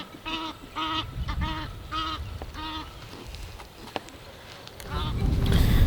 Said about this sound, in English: as evidenced by this Egyptian goose here